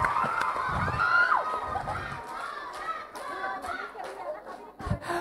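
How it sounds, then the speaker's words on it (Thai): Audience at a school play of the Thai literary drama Khun Chang Khun Phaen, a girls' school production, cheers and shouts continuously as a crowd, with a few sharp claps and voices rising and falling over a steady roar. "ขอเสียงปรบมือให้กับทหารคนของเรา"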